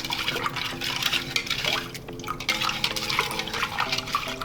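Salted water pours into a pot in a home kitchen, a close, splashy, gurgling stream that fills the pot with a brief pause in the middle.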